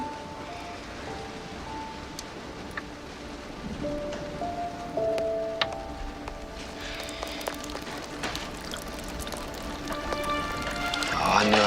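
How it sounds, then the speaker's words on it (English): Steady rain patters outside a ranch house, a soft continuous hiss with scattered drops, growing slightly louder toward the end, with faint tonal sounds in the background. "It's raining outside."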